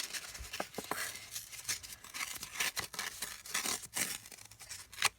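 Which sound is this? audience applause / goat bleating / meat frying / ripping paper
ripping paper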